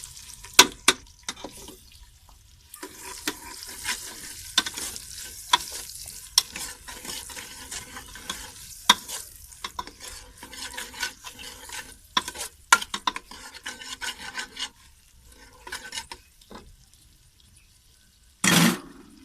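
Onions added to browned garlic and ginger in a pan for a kachalu dish, sizzling softly while a spoon scrapes and stirs in irregular clatters, with a louder burst near the end.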